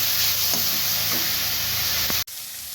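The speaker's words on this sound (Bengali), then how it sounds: "পেঁয়াজটা ভাজা হয়ে আসছে" Onion paste frying in a pan for Bhola fish curry gives a steady, close sizzle with a few faint stirring touches. It cuts off abruptly near the end, leaving a quieter hiss.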